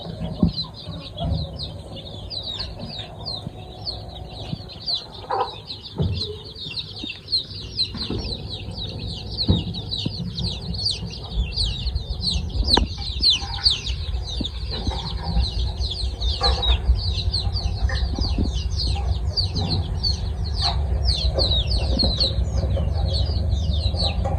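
A flock of naked-neck native chickens clucks and chatters continuously for a long stretch, the busy calls layered together and growing slightly louder toward the end.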